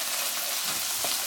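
Onion and sausage frying in a pan, a steady close hiss of sizzling fat with faint stirring scrapes near the end and no voices.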